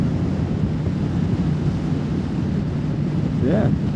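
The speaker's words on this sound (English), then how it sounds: "there's a lot of wind going on here" Steady roaring wind buffets the microphone while riding a Triumph Thruxton TFC motorcycle, a loud continuous rumble throughout, with a brief rising engine or voice-like tone near the end.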